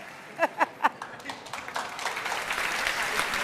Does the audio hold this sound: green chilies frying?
no